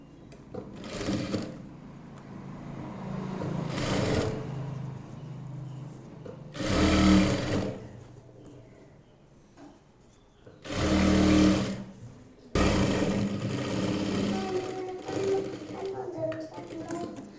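Sewing machine stitching a zip onto a cloth handbag made from scrap fabric, in several short loud bursts of rapid whirring separated by pauses, with a person talking in between.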